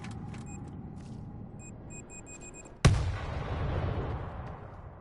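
A grenade bursts in a World War Z zombie-shooter match, one loud sudden boom that rumbles and decays over the following seconds, preceded by background game noise and faint electronic beeps.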